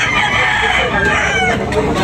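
A rooster crows loudly and close by in one long, drawn-out call, with faint background noise.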